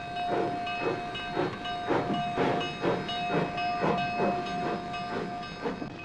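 An old steam locomotive hisses and chuffs in a steady rhythm of loud, breathy bursts over a continuous tonal whine, with no voices.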